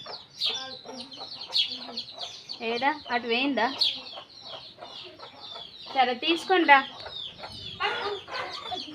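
A hen clucks repeatedly while small chicks peep around her, close by, as people talk over the birds.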